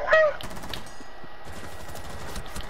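Rapid automatic gunfire from an enemy player in a video game, a short loud burst at the start that quickly gives way to softer continuous game noise and faint talk.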